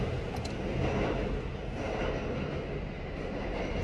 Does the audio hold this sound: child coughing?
no